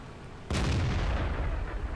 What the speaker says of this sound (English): Gets a shot, but doesn't manage to hit it while on the move.